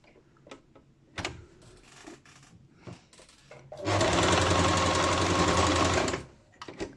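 A sewing machine stitches forward and backward on a fabric face mask, with a few quiet clicks and handling sounds first, then a loud steady run of about two seconds close by.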